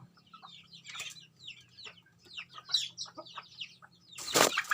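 A broody hen sitting on her egg clucks and grumbles in short irregular bursts, fairly close, ending in a sudden loud rustle of flapping wings or feathers; a faint low hum runs beneath.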